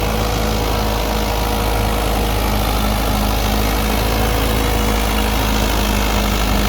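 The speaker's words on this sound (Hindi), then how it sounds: "तेरी भाइयों चाल देखो ट्रैक्टर की" A Mahindra 575 XP Plus tractor engine runs in a steady, loud, low diesel drone, close and unbroken throughout.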